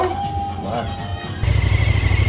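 A motorcycle engine idles, then jumps into a louder, throbbing rev partway through, close by with some voices mixed in early on.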